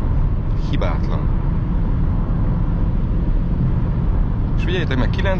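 Steady broadband wind rush inside a car moving at highway speed, between 90 and 130 km/h, heard from the cabin while someone talks near the start and the end.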